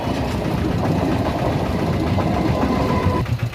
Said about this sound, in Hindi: ट्रेन गुजर रहा है